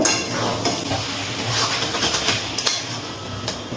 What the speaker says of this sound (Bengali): ঢাকনাটা তুলে নিচ্ছি। এবার নাড়াচাড়া করে নেব।